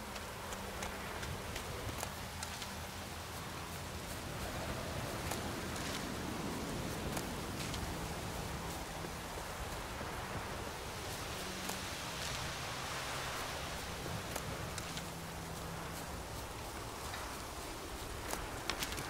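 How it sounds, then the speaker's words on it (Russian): Steady rain falls in The Witcher 3 video game, a dense, even hiss of drops running throughout, with faint low tones and scattered patter under it and no talk. "Хорошо, что дождь."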